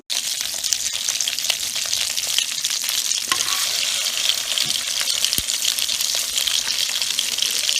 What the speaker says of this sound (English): So put your rabbit and your shallots in the bacon fat and brown it.